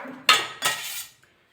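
A metal wok set down on a gas stove: two sharp metallic clanks close together, a short ringing decay, then quiet.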